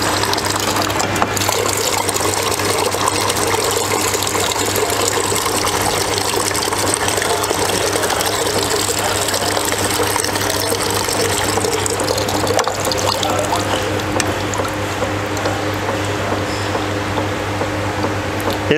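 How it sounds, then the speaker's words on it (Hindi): Washing water draining out of a softy ice cream machine, a continuous loud gushing flow with a steady low machine hum underneath, no talking. "जो अभी हमने वॉशिंग के लिए पानी डाला ये हम निकाल लेंगे।"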